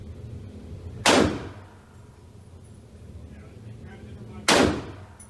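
Two sharp, loud gunshots spaced a few seconds apart, each a sudden crack with a short decaying tail, from a machine gun and a WW2 rifle fired outdoors in Texas, with faint background noise between them.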